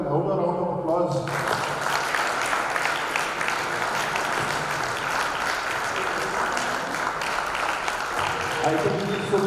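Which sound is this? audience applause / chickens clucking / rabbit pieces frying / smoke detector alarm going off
audience applause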